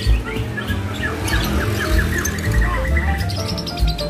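A songbird sings loud, rapid chirping phrases and trills at a bird singing contest in Tarakan, Indonesia, bright and close, over a low rumbling background with no talking.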